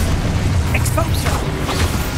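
A magical Expulso blast goes off in Hogwarts Legacy gameplay, a burst with a booming pop over a dense, loud bed of game noise, with a voice shouting the spell.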